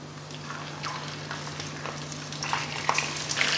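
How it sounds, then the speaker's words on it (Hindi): Chicken fries in ghee with browned onions for a Punjabi chicken curry, a soft steady sizzle with scattered crackles and a few stirring scrapes. "इस चिकन को हमने इधर फ्राई करना है, प्याज और इस घी में"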